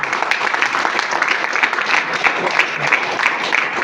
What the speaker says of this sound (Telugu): ఆల్ అప్లైన్స్ ఒకసారి మనం క్లాప్స్ ఇద్దాం